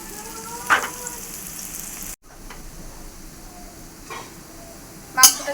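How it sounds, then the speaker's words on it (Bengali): Onions frying in oil, a soft hissing sizzle with a few clinks and scrapes of utensils, briefly cutting out midway, fairly faint and close. "পেঁয়াজটা ভাজা হয়ে গিয়েছে"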